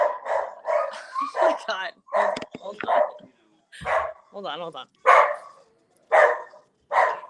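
Several dogs bark and yip in short bursts nearby, interleaved with a person talking during a remote interview.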